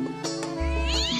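A single drawn-out cat meow rises and bends in pitch at a live carnival bloco show, standing out briefly over the music of the performance.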